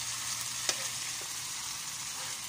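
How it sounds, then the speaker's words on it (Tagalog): Smoked fish (tinapa) sautéing in a pan gives a steady, even sizzle throughout, with one faint clack of a utensil partway through and no talking. "Ito, nagigisa ako."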